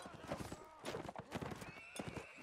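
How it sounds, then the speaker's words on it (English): Horse neighing with clip-clopping hooves during a Mount & Blade Native battle, mixed into busy battlefield noise with a commentator talking over it. "He's crashed his horse into a person."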